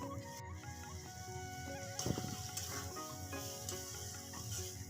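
Mutton fat cooks down with spices in a pan for a keema ghugni, giving a faint, steady sizzle with occasional soft stirring scrapes and light clinks, quiet and without talk.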